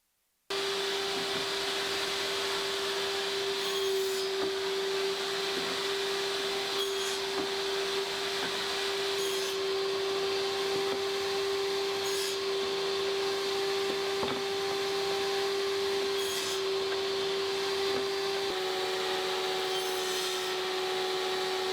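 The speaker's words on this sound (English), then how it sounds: "I do this on the table saw and slit all parts at the same distance all around" A table saw runs with a steady high whine while cutting tenons in wooden crossbars, the blade tone held constant with faint repeated rasps as the wood passes through, close and unbroken after a brief silent start.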